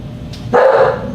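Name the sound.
dogs barking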